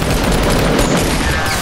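A super minigun fires in a video game, one loud, dense and continuous burst of rapid gunfire that runs without a break.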